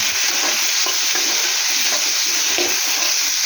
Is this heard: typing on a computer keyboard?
no